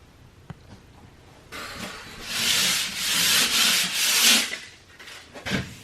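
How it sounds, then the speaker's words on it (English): A patched drywall repair where an electrical or phone panel was removed is hand-sanded, starting after a quiet moment with a run of loud, hissing back-and-forth strokes, then tapering off. "Why am I sanding?"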